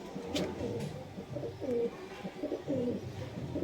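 Long-bodied Punjabi pigeons coo nearby in repeated low, throaty rolling calls that come in several bursts, with some rustling between them.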